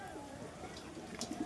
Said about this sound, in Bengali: এগুলো সব ব্রিডিং পেয়ার দাদা, এগুলো সব ব্রিডিং পেয়ার এগুলো